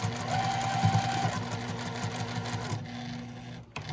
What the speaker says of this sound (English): So I'm going to sew on the line that I created, backstitch a little